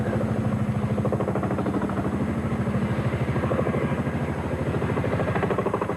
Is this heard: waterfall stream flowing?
no